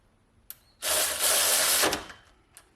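A cordless 3/8 inch ratchet, the Aoben model, spins for about a second in a loud, close whirring buzz, framed by a couple of faint clicks before and after, with no talking.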